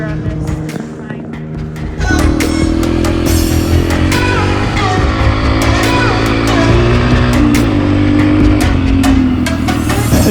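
A Yamaha TTR 125 dirt bike engine drones steadily while being ridden, loud and close, jumping to a stronger sustained note after a couple of seconds, with wind buffeting and voices partly over it.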